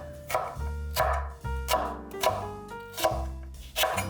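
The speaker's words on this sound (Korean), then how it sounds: "반으로 잘라 3mm 두께로 채 썰어주세요." A knife cuts mini paprika into thin 3 mm strips on a board, giving about six evenly spaced, crisp chopping knocks, close and clear with no voices.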